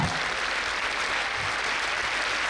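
A large audience at a Mata Pita Vandana ceremony in Bangalore claps continuously. The dense, even applause fills the hall without pause.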